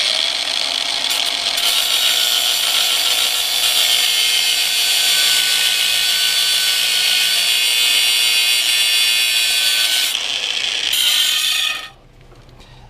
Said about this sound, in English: you can see this goes pretty quickly with just using a regular old angle grinder